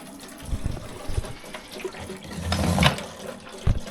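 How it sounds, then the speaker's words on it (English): Diesel pouring from a spout into the tank of a faulty diesel heater, a close liquid trickle and splash with gurgling surges and a few clunks, no talk over it. "Right, let's put some diesel in it. See how well the spout pours."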